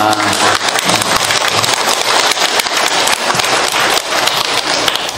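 An audience at a lecture claps continuously, a dense, loud wash of many hands applauding steadily throughout with no pause.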